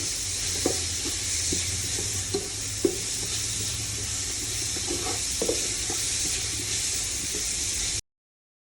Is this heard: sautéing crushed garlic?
yes